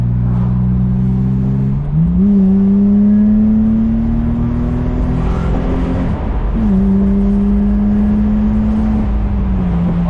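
A BMW E30 cabriolet with an M50B25 straight-six engine revs loudly up close, climbing twice from a steady idle hum and holding each rise for several seconds before easing back down.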